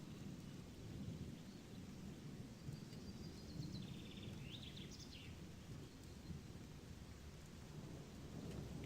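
Rain falling steadily with low rumbling thunder in the fantasy game Gothic 2, a constant wash of rainfall and deep rolling rumble throughout, with faint bird chirps above.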